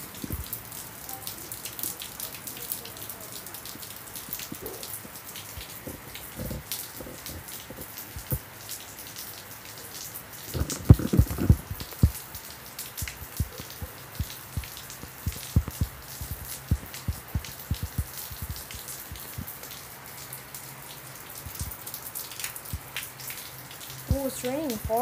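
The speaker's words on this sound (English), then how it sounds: "It's raining hard, dang." Hard rain falling in San Dimas, California, a steady patter of drops hitting surfaces close by, with irregular louder drips and taps throughout and brief voices mixed in.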